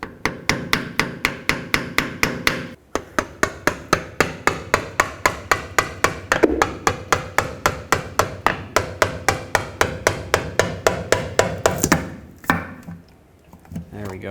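Rapid, evenly spaced metallic knocks, about four per second, ring out close and loud while working the rear differential cover loose on a 1997-2003 Ford F-150, ending in a few irregular clunks.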